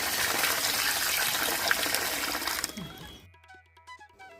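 Grains are rinsed in water for making vadiyalu: a steady, full gush and swish of water fills most of the moment, then it abruptly cuts away to quieter trickles and clinks.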